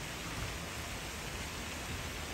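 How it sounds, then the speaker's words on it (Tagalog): Heavy rain pours outside, a steady, even hiss of falling water that stays constant throughout at a moderate, fairly distant level. "Malakas yung ulan eh."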